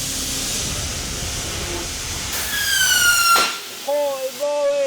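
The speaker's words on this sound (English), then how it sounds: "Spinning a skateboard wheel so fast that it explodes." A waterjet hisses steadily and spins a skateboard wheel faster and faster, its pitch climbing in a rising whine before a sudden burst, then voices react.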